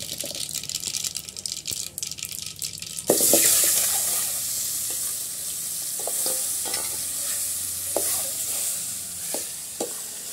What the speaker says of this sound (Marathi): आता तेल गरम झाले. आता आपण त्याच्यामध्ये मोहरी टाकूया.